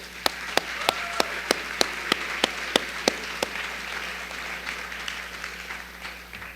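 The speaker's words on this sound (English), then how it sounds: "a round of applause" An audience at a 2013 honors college convocation claps for a dean, a dozen distinct evenly spaced claps ringing out at first before blending into a softer continuous patter of applause.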